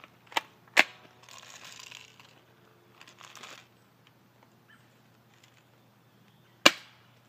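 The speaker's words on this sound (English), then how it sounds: "that's pretty much what I'm gonna be shooting at, just with the old spring airsoft gun" Spring airsoft gun shots striking a rusty piece of metal outdoors, heard as a few sharp isolated cracks spaced apart, with soft shuffling handling noise between them and a steady low hum underneath.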